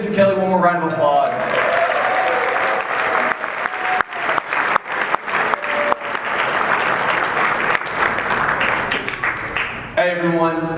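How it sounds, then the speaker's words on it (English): At a fraternity centennial gala, guests give a full round of applause, steady dense clapping for most of ten seconds, bracketed by a speaking voice at the start and end. "Everyone give Mr. Kelly one more round of applause."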